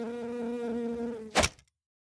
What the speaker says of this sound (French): Il y a une petite mouche à fruits en studio